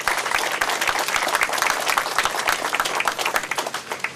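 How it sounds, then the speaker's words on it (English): Sustained applause from a crowd at an outdoor Labor Day walk event, dense steady clapping at full strength throughout with no voices standing out. "please give them all a big round of applause."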